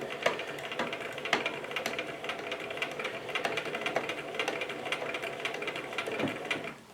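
A domestic sewing machine stitches steadily for about seven seconds, its fast needle clatter and whirring motor running close and even with a few sharper mechanical clicks, no voices.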